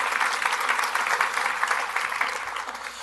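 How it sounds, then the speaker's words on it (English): An audience at a consulting presentation applauds, a dense, steady wash of many hands clapping that holds for several seconds and eases slightly toward the end. "Big round of applause"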